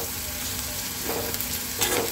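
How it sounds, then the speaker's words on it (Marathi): Onion and green chillies fry in oil in a kadai with a steady close sizzle, broken by a few brief stirring scrapes and bursts toward the end. "मिरचीसुद्धा छान फ्राय झालेली आहे"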